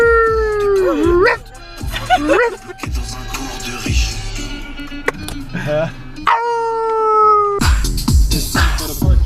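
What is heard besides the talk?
dog howling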